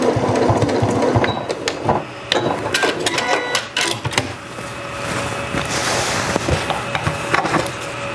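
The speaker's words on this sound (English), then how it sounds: "I'm just going to use the regular stitches to go back and forth just a couple of times." A sewing machine runs a regular straight stitch back and forth a few times across the end of a zipper, giving several close bursts of rapid mechanical clatter with short pauses between passes.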